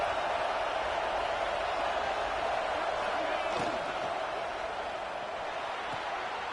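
Stadium crowd roaring at a college football playoff game, a loud continuous wash of cheering and noise from a large crowd as the defense faces a red zone stand, steady throughout with a brief sharp accent midway.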